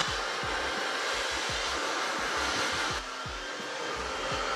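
A hair dryer blows hair with a loud, continuous airy roar and a steady hum, plus repeated low thumping pulses underneath.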